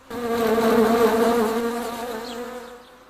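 A swarm of bees buzzes in a steady, loud drone with a strong harmonic hum that holds for about two seconds, then thins and fades as the insects move away.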